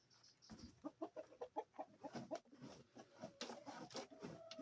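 Several chickens, a large flock including chicks, cluck in quick, rhythmic bursts close by on an off-grid homestead, with a few higher squawks layered over a quiet background.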